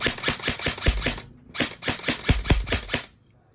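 An E&C 856 airsoft rifle fires two rapid bursts of sharp, loud mechanical snaps, close and clear, with a short pause between them.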